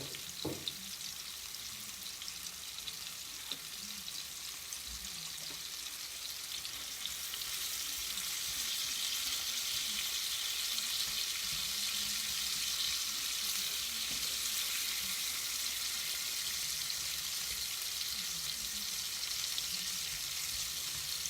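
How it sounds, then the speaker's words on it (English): Chicken frying in a pan with rosemary and sage gives a steady, bright sizzle that swells slightly partway through, with occasional stirring clinks and no talking. "when it starts to fry nicely, we add rosemary and sage"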